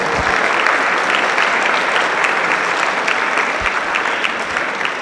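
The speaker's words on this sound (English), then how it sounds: "Give them one more round of applause" Loud, sustained applause from a high school spring band concert audience honors the Jazz Lab Band, a broad clapping roar that tapers gently toward the end.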